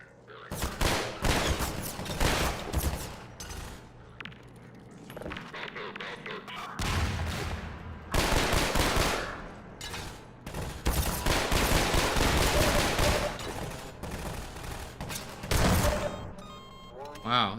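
AR-2 rifle fire in a video game, repeated loud bursts of rapid automatic shots separated by short pauses, with booming impacts and a voice talking at times.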